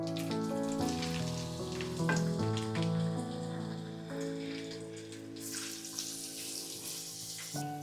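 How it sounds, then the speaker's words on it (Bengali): Onions fry in oil for a duck curry with coconut milk, a steady sizzle mixed with sustained melodic tones, growing brighter and hissier toward the end. "পেঁয়াজগুলোকে আমি ভেজে নিব,"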